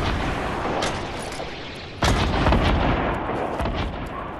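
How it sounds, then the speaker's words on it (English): A grenade launcher fires in a squad shooter game, producing loud, rough booming blasts that run together into a continuous roar and swell sharply halfway through. "Grenade launcher."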